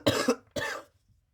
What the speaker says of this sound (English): so I just have to cough sometimes.